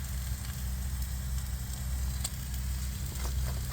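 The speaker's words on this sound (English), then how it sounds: "In the pan we've got the lovely pork steaks." Pork collar steaks sizzle in a pan during a winter camp at motorway services, a steady close hiss with faint crackles and no talk.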